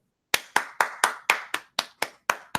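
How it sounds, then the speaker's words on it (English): A single person claps ten times in a steady, moderate rhythm, each clap sharp and close, with silence before the first clap and between the claps. "You're not clapping, it's just me."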